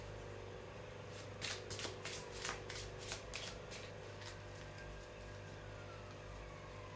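Playing cards being pulled from a deck, giving a quick cluster of crisp papery flicks and snaps close by, over a steady low background hum.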